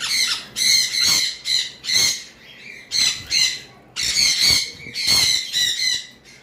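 A pair of pet birds, a female rubino and a male red opaline, give repeated loud, harsh squawks and chirps in close bursts, rapid and overlapping, with short pauses between calls.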